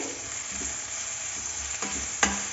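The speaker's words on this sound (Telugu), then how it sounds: "ఇప్పుడు ఆనియన్స్ ఫ్రై అయ్యాయి కదా ఇందులోకి మనము ఇందాక తురుము పెట్టుకున్నటువంటి ముల్లంగి వేసుకోవాలన్నమాట" Grated radish sizzles steadily in a pan with frying onions, a continuous close hiss broken by a few scraping stirs of a spoon.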